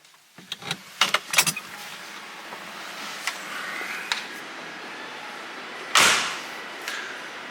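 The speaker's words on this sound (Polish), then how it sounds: "Ależ ten dźwięk zamykanych drzwi jest bezbłędny." A series of light clicks and rattles, then one solid car door slam near the six-second mark, followed by a faint tail; no voices.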